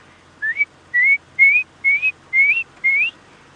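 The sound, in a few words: whistled imitation of red-crested korhaan call, ascending whistles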